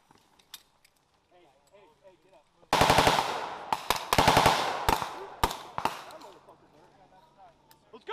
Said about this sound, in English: give me sustain fire right to left!